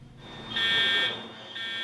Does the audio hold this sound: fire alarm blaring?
yes